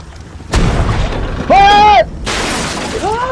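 Ship cannons fire in a naval battle video game, two loud booming shots a couple of seconds apart, each followed by a rumbling tail, with a ringing tonal effect between them.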